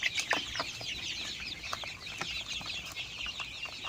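A flock of five-week-old Hisex Brown laying hens fills the air with constant overlapping clucks and chirps, a dense, steady chorus with sharp individual calls standing out, heard alone at dusk.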